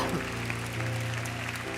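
A congregation applauds in a steady, dense wash of clapping, with a sustained musical tone humming underneath throughout.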